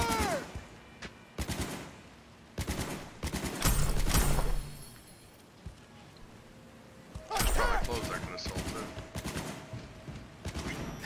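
Bursts of automatic gunfire in the video game Cyberpunk 2077, with several loud rapid volleys and single shots separated by brief pauses, mixed with game effects and voices calling out.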